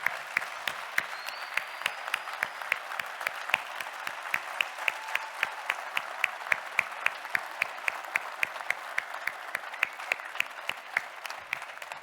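A conference kickoff audience claps for a board member, sharp individual claps standing out over a steady bed of applause that carries on for the full stretch, close and without talk.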